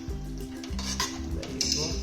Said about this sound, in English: I'm just trying to get this cream off my spoon so I don't waste it